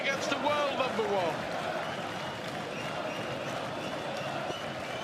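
Crowd applause and cheering at a darts match in Melbourne, a broad, steady roar that is loudest at the start, eases a little and then holds as continuous background noise.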